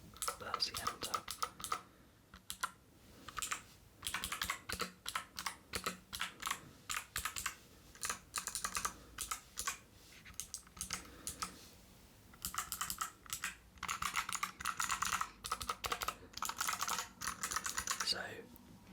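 Rapid tapping and typing on a wired USB-C computer keyboard, close and crisp, coming in dense bursts with short pauses between runs of keystrokes throughout.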